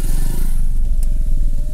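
A motorcycle engine drones steadily close by on a jungle road, a loud continuous low rumble with a faint rising whine, and no voices.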